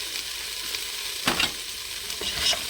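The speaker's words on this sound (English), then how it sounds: "give it a good mix" Goat meat stew with rosemary and chopped coriander is stirred in a sizzling pot, with a soft steady fry and a few brief scraping strokes of the spoon.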